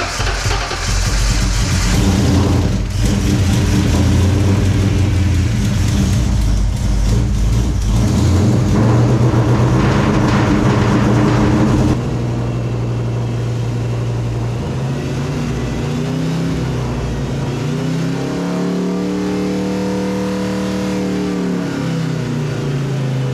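A Ford Fox body Mustang, a barn-find car, runs its engine on its first drive, revving loud and rough for several seconds, then settling into a steadier idle with rising and falling pitch sweeps, with no talk.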